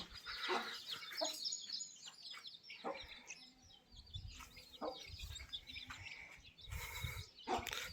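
Hens cluck on and off at moderate distance, with scattered bird calls and low farmyard rumbling between bursts.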